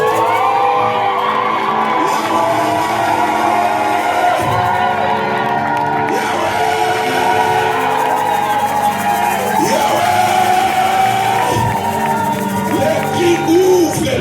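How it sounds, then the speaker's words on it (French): A church congregation at a bishop's sermon during the offering shouts cries of joy, a loud, continuous swell of cheering and whooping voices filling the hall, with speech mixed in. "Est-ce que quelqu'un ne peut pas pousser le cri de joie?"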